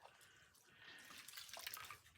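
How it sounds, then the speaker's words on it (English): Running water rinses soapy bubbles off a full-body silicone doll during its first bath, a steady close splashing stream with small drips and no talking. "I'm gonna rinse her off."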